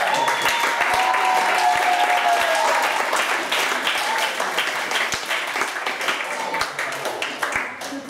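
A crowd applauds after a performance at the No Szans Cup 2012 in Sobieszewo, with dense, steady clapping that slowly thins toward the end and a few voices mixed in.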